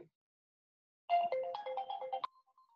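A mobile phone ringtone goes off during a legal lecture, a short melodic electronic jingle of rapid tones lasting about a second, then stopping with a brief trailing note.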